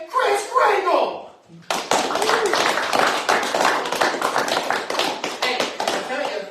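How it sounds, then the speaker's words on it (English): Audience clapping for Santa Claus at a Christmas Festivus party: after a brief stretch of talk, a burst of dense, fairly loud applause starts abruptly and carries on for several seconds. "let's give a big round of applause again for Santa Claus"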